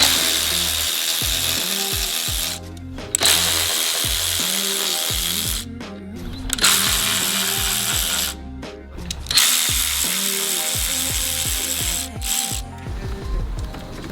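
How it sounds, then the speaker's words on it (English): An electric ratchet whirs in several bursts of a few seconds each, separated by short pauses, loud and close while working fasteners on a Subaru WRX VB during a front-mount intercooler install. "you can get an electric ratchet"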